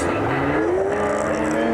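A Lexus GS300 on a track day drones loudly past a Citroen C1, its engine note climbing steadily as it slowly overtakes, with a second engine hum alongside and no talk.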